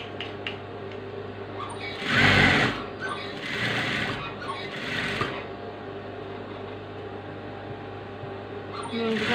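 A sewing machine stitches an outline on a frock, running steadily close by with a few louder bursts of fast stitching, a person talking over it.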